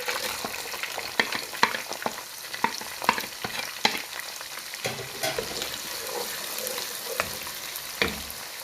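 Onion frying in hot oil for Egyptian mahshi, a continuous close sizzle with frequent stirring scrapes and sharp clicks from a spoon on the pot.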